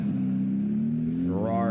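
A voice imitates a Ferrari car engine, a close, loud sustained drone that climbs in pitch toward the end.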